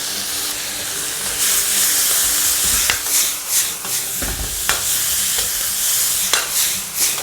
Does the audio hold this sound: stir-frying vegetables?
yes